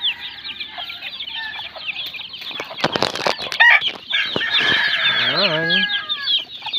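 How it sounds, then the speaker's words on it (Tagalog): Pet chicks being fed chirp and cluck almost without a break, close by and fairly loud, with wings flapping in the middle and someone talking briefly over them. "Ayan po mga kaibigan ating mga alagang sisiw."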